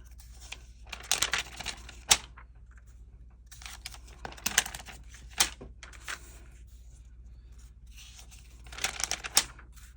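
Original Tomoe River paper in a Hobonichi planner being flipped and handled, giving soft, crisp rustles and papery crackles in short bursts against a quiet, near room.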